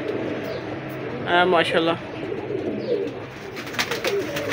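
Pigeons, some marked and some white-eyed, cooing softly in a loft, low murmuring coos behind someone talking, with a brief louder flutter of activity partway through.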